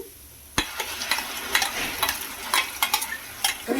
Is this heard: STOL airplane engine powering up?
no